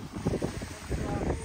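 Strong gusting wind just after rain in Songkla Old Town, Thailand, buffeting the microphone in a steady rumbling roar with uneven surges and a faint voice underneath.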